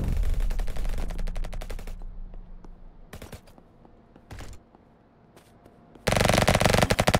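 Rapid automatic gunfire in a Roblox first-person shooter, loud and close, with dense bursts at the start, a few short volleys in the middle and another sustained loud burst at the end, with no speech.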